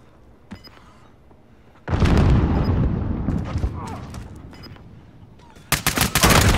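A grenade blast in Call of Duty: Modern Warfare, followed by a sustained burst of rapid gunfire and a second loud volley at the end, with a brief voice call-out early on.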